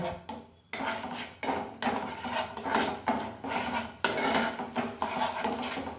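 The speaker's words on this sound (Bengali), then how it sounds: "এবারে এটা ভালো করে কষিয়ে নেব।" Spice paste with turmeric being sautéed in a pan for a Bengali raw jackfruit kofta curry: a utensil scrapes and rasps against the pan in steady, repeated strokes, close and fairly loud, with no talking.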